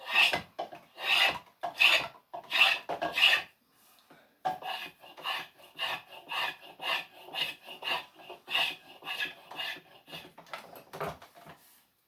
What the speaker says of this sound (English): I turn my spoke shave around, I'm pushing it